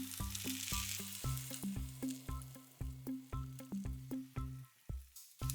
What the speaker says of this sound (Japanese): フライパンにチーズを乗せて、その上にアスパラを置きます